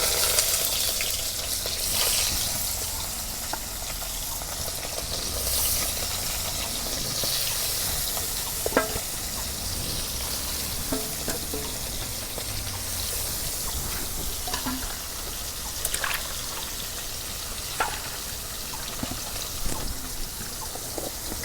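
Small bata fish fry in hot oil, a steady crackling sizzle running continuously with occasional sharper pops and stirring clatter, moderately loud and close.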